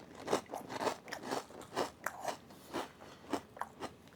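Smokehouse barbecue Ruffles potato chips crunch under close, repeated bites, a steady run of crisp chewing with no talking.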